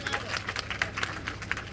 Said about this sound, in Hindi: एक बार अपने लिए जोरदार ताली बजाइए।